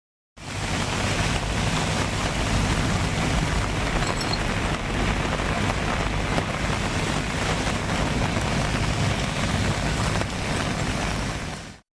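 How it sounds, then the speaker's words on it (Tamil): Heavy pre-dawn rain pours down over town streets in Vellore district, Tamil Nadu, a loud, dense, unbroken hiss that lasts the whole stretch with no voices. "அதிகாலையில் சுமார் 2 மணி நேரத்திற்கு இடி மற்றும் மின்னலுடன் கூடிய கனமழை பெய்தது."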